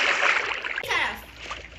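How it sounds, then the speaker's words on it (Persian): A Minecraft character jumping into water makes a soft splash and sloshing, with a brief sharper burst partway through, under faint talk from a player. "بپر پایین، بپر تو آب، بیا."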